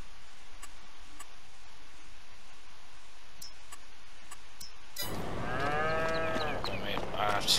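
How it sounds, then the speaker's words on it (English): Cows are unloaded in the farming video game Farming Simulator 22. Faint ticks come first, then several moos overlap loudly at close range over busy farm noise. "Next, we'll just get these cows unloaded."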